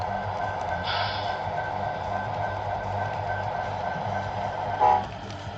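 Model train with a CN locomotive running on a small loft layout, a steady low motor hum and rolling rumble nearby, with a brief brighter squeal or horn-like tone near the end.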